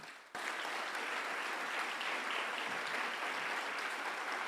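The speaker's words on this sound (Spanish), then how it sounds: "Puedes darle un fuerte aplauso por esto." A Spanish-language church congregation breaks into applause after a short quiet moment, then a steady, full round of clapping carries on evenly to the end, somewhat distant and soft.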